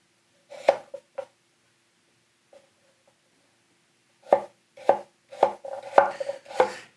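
A gyuto knife cuts firm sweet potato in crisp slicing strokes: two quick cuts, a pause, then a faster run of five or six chops close by.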